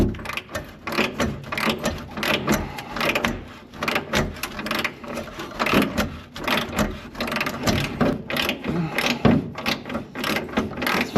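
Dense, rapid ratchet clicking and mechanical rattling keeps on for the whole stretch while a gas tank is taken off a 1927 Dodge Brothers sedan. The bursts come close and fairly loud, with no speech.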